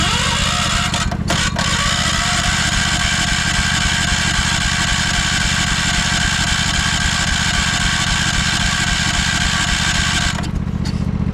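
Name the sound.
1968 John Deere 140 tractor engine running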